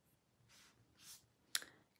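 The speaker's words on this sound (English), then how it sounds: "so we'll take our pencil and we will just draw a very light line in the back" A pencil draws a light line on watercolor paper, heard as a few faint, soft scratchy strokes followed by a brief sharp tap, all very quiet and close with no talking.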